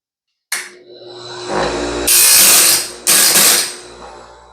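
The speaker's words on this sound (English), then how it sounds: "let's go ahead and grind this one" A Norwood Stellicut sawmill band being ground: a motor whirs up, then two loud, harsh bursts of grinding roughly a second apart, each rasping steadily before dropping back to the running hum, close up with no talk.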